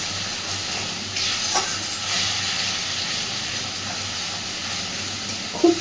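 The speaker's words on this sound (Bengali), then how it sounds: "গ্যাসের ফ্লেমটাকে একদম সিমে রেখে হালকাভাবে মশলাটাকে নাড়তে থাকবো যতক্ষণ না মশলা থেকে তেল ছাড়ছে" Masala spice paste sizzling in oil over a low gas flame while it is gently stirred, making a steady, close hiss with faint scrapes, for a raw banana dish.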